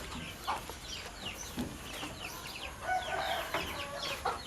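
Backyard chickens, about four months old, cluck in a home coop while waiting to be fed. Scattered soft clucks and brief squawks come at a moderate distance over a quiet background.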